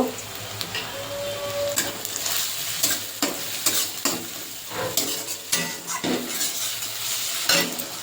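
Onion with garlic and ginger pastes frying for chicken giblets, a constant sizzle broken by repeated clinks and scrapes of a utensil stirring in the pan, close up with no talk.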